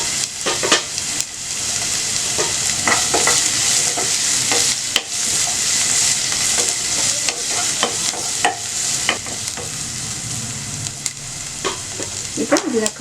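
Onion and green chillies frying in a hot pan, a continuous loud sizzle broken by repeated scraping clicks of a spoon stirring at an uneven rhythm.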